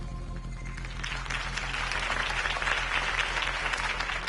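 A crowd at a Harvey Dent campaign rally in Batman: The Telltale Series applauds, the clapping swelling into a steady, dense wash that carries on to the end.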